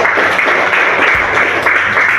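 Students in a classroom applaud a presenting group, with a loud, continuous wash of many hands clapping close by.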